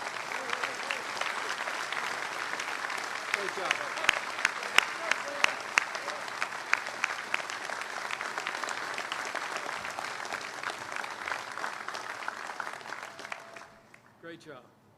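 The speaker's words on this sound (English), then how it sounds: "Let's give her a big round of applause." Sailors aboard the aircraft carrier USS Harry S. Truman give a sustained round of applause and cheers at a ceremony, a dense steady clapping that fades near the end, with a voice speaking briefly over it.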